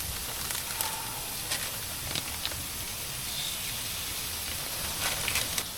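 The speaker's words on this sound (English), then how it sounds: "Listen, yeah, listen to that sizzle." Steak sizzles on a hot wood stove inside a Pomoly 70 hot tent, a steady broadband hiss with faint crackles, even and close throughout.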